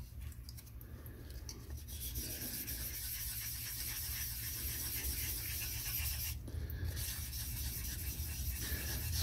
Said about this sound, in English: So just sand it, careful on the edges.